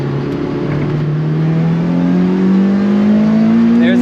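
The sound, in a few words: 2005 Lotus Elise engine surging while accelerating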